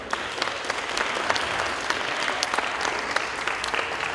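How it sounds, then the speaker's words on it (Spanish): An audience at a screening of César García's film Nahuales at Centro Cultural Carranza claps loudly and steadily, with dense crowd applause holding throughout and no talking. "les pido un fuerte aplauso para César García y su producción Nahuales"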